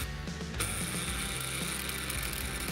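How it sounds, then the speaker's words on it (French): An oversized Tivoly impact socket spinning on a steel screw head, with a close, continuous metallic grinding and whirring that runs throughout at moderate level, no talk. "Je prends une douille volontairement plus grande que la tête de vis afin qu'elle tourne dans la douille"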